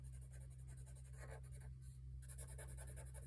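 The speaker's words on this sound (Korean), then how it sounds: "나머지 부분은 색칠을 해주세요." A hand colors in a drawing of Dorami from Doraemon, a coloring tool scratching across paper in quiet, close, repeated back-and-forth strokes with brief pauses, over a faint low hum.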